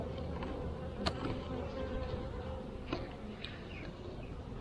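Honeybees buzz in a nucleus hive opened for inspection, a soft continuous hum with a few closer, brief passes of individual bees, and no talking.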